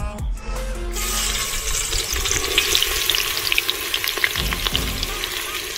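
Cumin seeds spit and crackle in hot oil over an outdoor chulha, a steady loud sizzle running throughout after a brief quieter start, with no talking.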